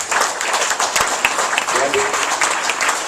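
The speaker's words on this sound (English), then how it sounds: "Let's give her a healthy cheer right now" An audience claps continuously at an awards ceremony for an Irwin Award winner, steady applause that stays moderately loud throughout.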